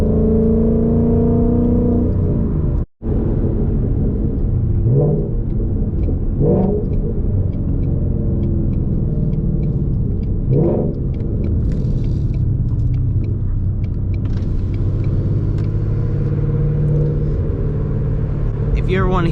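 A Ford Mustang GT engine rumbles steadily from inside the cabin while driving, with a few revs rising and falling and a brief cut near the start.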